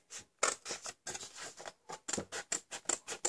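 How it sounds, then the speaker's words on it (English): Scissors snip through cardstock on a fold-flat card box, a quick series of short crisp cuts in an uneven rhythm, quiet and close with no talking. "we're going to cut up and remove this section"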